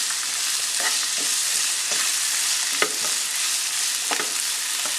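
Pork curry masala frying and sizzling in a pan, with a steady hiss broken by several scraping strokes of a spoon as it is stirred, close and fairly loud.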